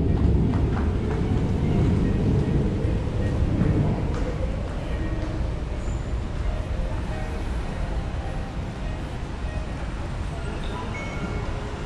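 Steady low rumble of Kallang MRT Station in Singapore with a passing train, broadband mechanical noise throughout and a slight drop in level partway through.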